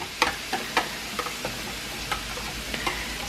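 A whisk working grated Parmesan cheese into a sauce, with light rhythmic metallic ticks against the pan over a soft steady sizzle, close and moderately quiet.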